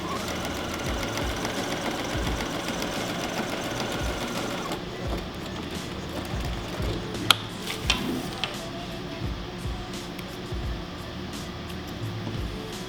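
Sewing machine back stitching the edge of a cloth mask pocket, a steady close whirring run of rapid needle strokes that eases slightly partway through, with no voices.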